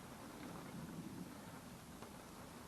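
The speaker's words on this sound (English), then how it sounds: "it's raining and it's very windy" Steady rain pours down with gusting wind outside a greenhouse, a dense continuous hiss with a faint low rumble underneath.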